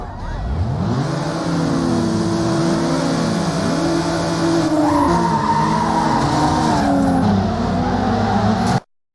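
A Honda S2000 races in Need for Speed Underground, its engine revving and climbing through gears amid screeching tire squeals and skids, loud and close throughout before cutting off abruptly at the end.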